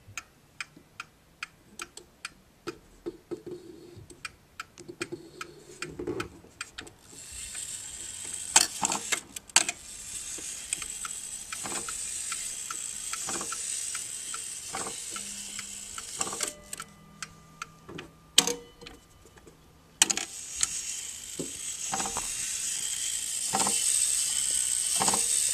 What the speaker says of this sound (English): Listen to that clicking.